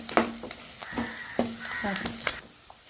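Okra masala curry stirred in a pan, giving a soft sizzle with scraping strokes of the spoon at a steady pace, close by, while a bird calls faintly in the background.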